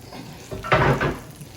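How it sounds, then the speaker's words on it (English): Garlic and butter frying in a pan for a shrimp garlic butter sauce, a soft sizzle that swells briefly in the middle and then settles, with faint clinks of a pan. "I'm gonna be putting in my my garlic and the butter"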